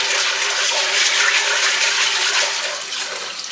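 Steady rushing water runs into a pot to rinse dried beans, a close, continuous gush with no voices over it.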